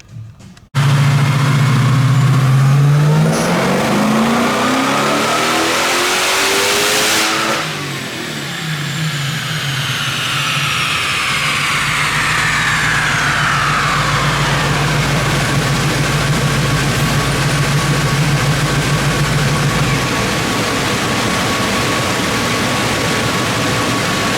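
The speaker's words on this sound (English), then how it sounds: "You'll hear it on the dyno. But I think we got everything sorted." A Dodge Challenger SRT engine on a dyno roars through a hard rev that climbs and peaks, drops briefly, then winds up again through a long sustained pull, very loud and close, with no talking.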